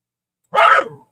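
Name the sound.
dog barking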